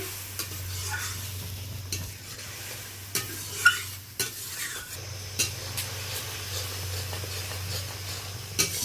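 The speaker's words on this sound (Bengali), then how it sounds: "এবার আমি মশলার পেস্টটা দিয়ে দিলাম। ভালোভাবে মিশিয়ে নিচ্ছি।" Spice paste and powdered spices being stirred into onions, green chillies and tomatoes frying in oil: a steady close sizzle with repeated spoon scrapes and knocks against the pan, over a low constant hum.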